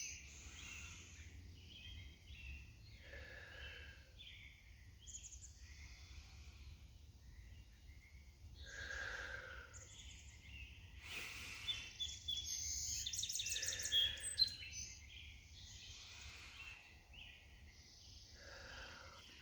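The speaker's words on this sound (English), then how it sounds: "The birds and the frogs are all out here doing this with us." Outdoors, birds and frogs call in faint, scattered bursts of chirps and trills over a quiet, low background hum, with one louder flurry of calls near the middle.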